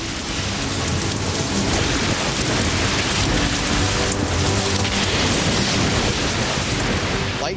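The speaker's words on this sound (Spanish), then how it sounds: "Pero se produjo una tormenta y cayó un rayo." Heavy rain roars down in a thunderstorm, a loud, steady, dense wash of drops with thunder rumbling beneath it throughout.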